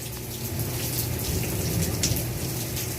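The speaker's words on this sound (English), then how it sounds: "it sounds like the rain's cooling down" Steady rain pours during a thunderstorm in Las Vegas, a dense continuous patter of drops on surfaces, fairly close and even in loudness throughout, with no talk and no distinct thunder clap.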